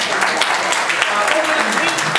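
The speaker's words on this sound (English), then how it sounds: "Please give Karen and her team a round of applause," An audience at an airport business conference applauds Karen and her event-planning team, a dense, loud patter of many hands clapping, mixed with voices.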